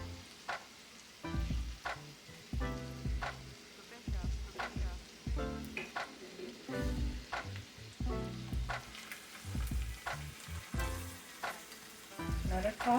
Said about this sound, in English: I'm going to just let that saute a little bit.